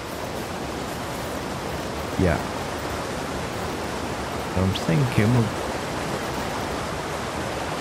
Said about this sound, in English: Right, we're at the top of the waterfall,